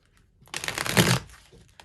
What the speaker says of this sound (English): Just want to shuffle really well so that we're not really running into the same stuff.